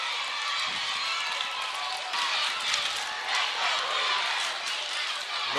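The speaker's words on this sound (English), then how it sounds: "Northview crowd has come alive here" Crowd at a Northview high school basketball game cheering and roaring during a tense late-game moment, a broad, steady wall of noise from a packed gym, with a commentator talking over it.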